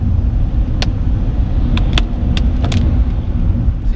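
A BMW 328xi drives on snowy roads, a steady loud engine and road rumble from inside the cabin, with a few brief sharp clicks and rattles over the drone.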